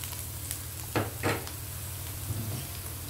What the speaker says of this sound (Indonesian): Dan sekarang saya masukkan halia